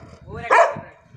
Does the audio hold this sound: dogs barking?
yes